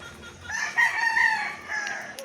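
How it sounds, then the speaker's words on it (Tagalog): A rooster crows among chickens in a backyard lot, the long call rising and holding at moderate loudness, with faint clucking and farmyard noise around it. "lote rito na may mga manok ko."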